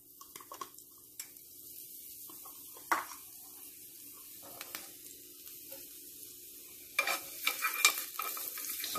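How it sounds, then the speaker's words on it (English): Chopped garlic sautés quickly in oil with a faint, low sizzle, broken by scattered clicks and taps of a utensil against the pan that grow busier toward the end. "saute it real quickly"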